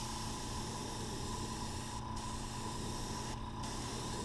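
An airbrush sprays paint at low air pressure over a gold-painted baby bass crankbait lure, a steady close hiss that briefly thins twice as the trigger eases.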